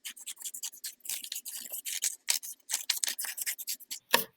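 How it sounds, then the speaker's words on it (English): Scissors snip through a sheet of folded paper in quick, steady cuts, a dry rasping crunch repeating up close and alone with no voices. "If you don't open it and I cut it with it folded together"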